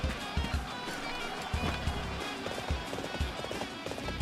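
Galloping horse hooves in Dynasty Warriors 6, a rapid clip-clop rhythm over the game's battle music and ambience, with a voice speaking during it.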